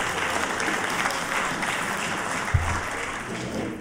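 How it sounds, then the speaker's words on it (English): Audience applause for a drug summit facilitator at a regional conference hall, a steady, dense wash of clapping from a large crowd that holds at an even level for the whole stretch. "I think he deserves a rather large round of applause"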